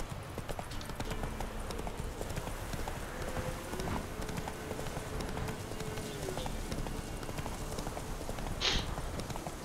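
A horse gallops in the video game The Witcher 3: Wild Hunt, a continuous rapid clip-clop of hooves running steadily under a dense layer of game ambience, with a brief sharp sound near the end.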